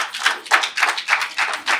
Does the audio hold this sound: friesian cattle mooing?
no